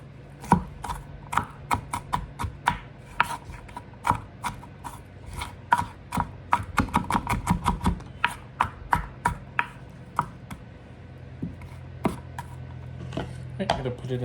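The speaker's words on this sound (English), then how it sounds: "want really small pieces of onion. So I might go over it with the knife again" Onion chopped finely on a board with a knife: fast irregular close taps, some in quick bursts, with quieter scraping between strokes and a softer rubbing sound near the end.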